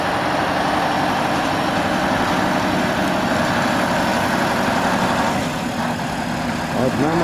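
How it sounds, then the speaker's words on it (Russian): Large truck engine idling with a steady low rumble, close and continuous, the tone shifting slightly near the end; voices are heard nearby. "Иосиф приехал на машине"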